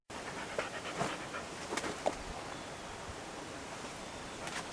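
A dog pants in hot weather outdoors, rapid breathy huffs running steadily under a constant hiss of ambient noise, close by, with no talk.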